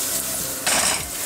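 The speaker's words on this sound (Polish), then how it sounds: "Poczekamy, aż masełko się pięknie rozgrzeje i wrzucamy cebulkę." A loud sizzle flares up as onion hits hot butter in a pan, the frying hiss swelling suddenly then settling into a steady crackle.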